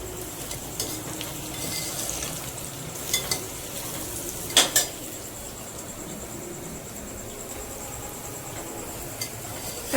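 Puffed rice (muri makha) being mixed with chickpeas in a bowl, a continuous soft rustling, crunching stir with occasional sharp clinks of a utensil against the bowl, close and fairly quiet.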